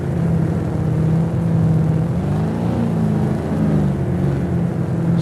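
In the racing game Top Drives, a Porsche 968 Club Sport's engine drones steadily and loudly, with a low hum that rises and wavers slightly as the car accelerates through a run, with no talk over it.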